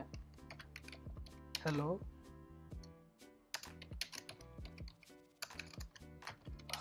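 Rapid clicking keystrokes on a computer keyboard come in quick bursts and short pauses, close and clear, while someone talks briefly in Hindi.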